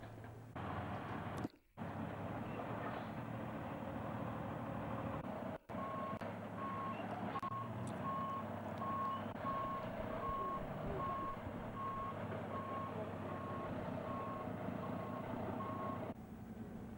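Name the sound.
truck reversing warning beeps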